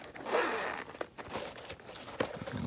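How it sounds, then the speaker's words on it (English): A zipper slides open along a fabric headphone carrying case, a close, scratchy rasp that runs in short uneven pulls for a couple of seconds with no talking. "you can open up with the zipper"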